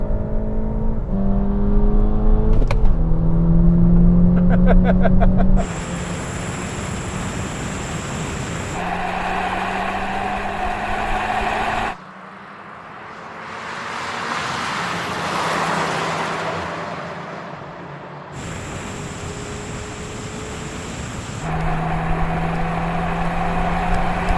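Volkswagen Golf GTI cars, including a Mark 5, accelerate hard in a drag race, engines revving up through rising pitches and gear changes in several abrupt cuts, loud and near, with a quieter rushing pass in the middle.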